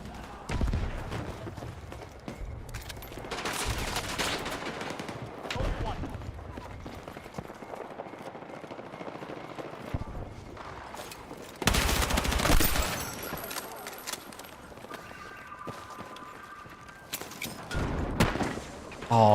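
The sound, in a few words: shotgun gunfire in video game Battlefield 6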